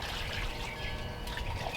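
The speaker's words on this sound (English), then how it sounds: "I'm going to go ahead and pour this onto my containers" Liquid fertilizer mix poured onto soil-filled garden containers, a soft steady trickle and splash that stays faint and continuous throughout, with no talking.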